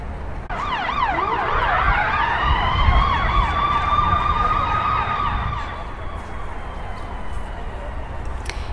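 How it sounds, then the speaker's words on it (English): Ambulance and police car sirens wail together as the emergency vehicles speed away down a Chicago South Side street, warbling yelps shifting into a steady rising wail, loud and continuous against traffic noise. "that ambulance and a police car speeding away down 95th towards Lafayette"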